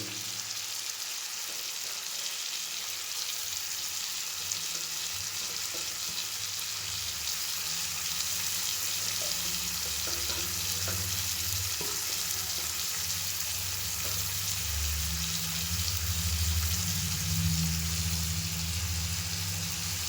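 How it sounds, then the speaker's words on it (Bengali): Chicken pieces with chopped onion fry in a pan, giving a constant close sizzle with occasional stirring taps and a low rumbling undertone that swells toward the end. "চিকেনটা একটু ভাজা ভাজা হয়ে আসলে এর মধ্যে দিয়ে দেবো কাটা পেঁয়াজ।"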